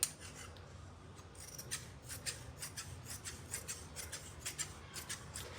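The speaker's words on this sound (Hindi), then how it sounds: "अब हम इसको इसी शेप में काट लेंगे।" Scissors cut fabric for a belted salwar, giving a rhythmic series of soft, close snips at a steady pace over a quiet background.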